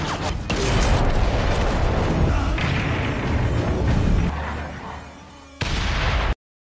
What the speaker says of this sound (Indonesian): sebuah ledakan keras mengguncang tanah